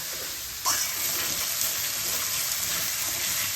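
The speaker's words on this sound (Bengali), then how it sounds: "এবার আমি দিয়ে দিচ্ছি গুঁড়ো মশলার পেস্ট। এটাও ভালোভাবে এর মধ্যে কষিয়ে নেব।" A paste of ground spices frying and being stirred in a pan, a dense, continuous sizzle with a short scrape as it is added, steady and close, with no voices.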